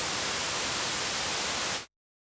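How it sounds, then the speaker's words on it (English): A steady, bright wash of white noise from the Alchemy synth in Logic Pro holds evenly, then cuts off abruptly to silence. "Pretty standard white noise at that."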